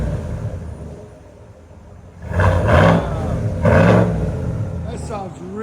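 A 2020 GMC Sierra AT4 pickup with a 6.2L V8 and Borla Atak exhaust idles with a low rumble, then gives two loud, deep revs one after the other, settling back between them.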